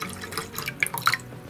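Water trickles and drips into a jar-like container, a quiet, uneven splashing with brief brighter drops, heard alone without speech.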